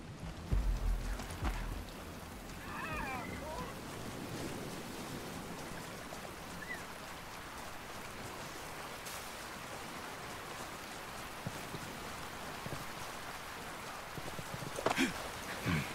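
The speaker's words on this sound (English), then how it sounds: "Some rain." Steady rain hisses and patters throughout the Ghost Recon Breakpoint game world, with a broad wash of falling water that stays constant, plus a few faint incidental sounds near the start and end.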